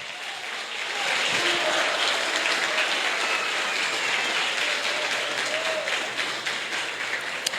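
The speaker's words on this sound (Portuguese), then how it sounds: "Pode aplaudir o Senhor." A church congregation in São José do Rio Preto breaks into applause that builds after a quiet second and holds as a steady, wash-like roar of many hands, with faint background tones underneath.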